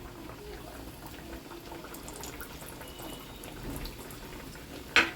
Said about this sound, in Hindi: अभी एक बार और फ्राई होगा, इसको भी होने देते हैं